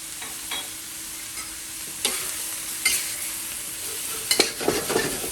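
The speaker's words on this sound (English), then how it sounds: "we're gonna stir fry this just for a couple seconds, just to kind of get it mixed up" Beef stir-fries with ginger and garlic in a pan over high heat, a continuous sizzle broken by sharp scrapes and clatters of a utensil tossing the food, growing busier toward the end.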